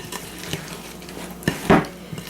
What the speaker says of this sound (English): Stir this up real good.